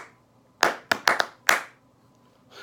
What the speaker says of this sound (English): We're going to clap sync.